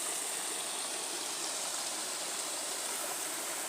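A river in Jamaica rushes steadily after rain, swollen and heavier than usual, giving a constant broad hiss of flowing water that stays close and even throughout, with no talking.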